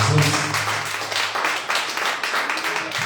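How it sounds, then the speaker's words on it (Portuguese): A church congregation applauding at an evening worship service, a dense rolling clatter of many hands with uneven swells, steady and fairly loud, with voices mixed in under it. "Receba a serva do Senhor com as palmas que glorificam o nome de Jesus"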